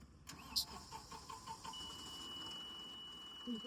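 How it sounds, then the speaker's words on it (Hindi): A John Deere 5405 tractor with PR clutch, MFWD and shuttle shift is key-started in neutral: a short run of cranking pulses, then the engine catches and settles into a steady idle, heard up close. "अब मैं इस गाड़ी को प्रॉपर न्यूट्रल करके स्टार्ट कर लेता हूँ।"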